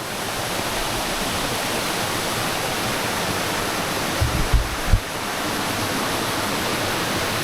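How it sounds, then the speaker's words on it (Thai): A loud, continuous roar of falling water at the top of Chet Kot Waterfall in Saraburi, Thailand fills the air, broad and unchanging, with a few brief low thumps near the middle. "ตรงนี้ก็จะเป็นบริเวณบนน้ำตกละ"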